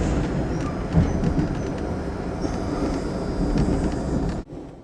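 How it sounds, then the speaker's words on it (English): Sunset Limited passenger train crossing the high Pecos River railroad bridge, a steady broad rumble and rush with wind noise that holds evenly, then cuts off abruptly near the end. "Sunset Limited crosses on the highest railroad bridge in North America."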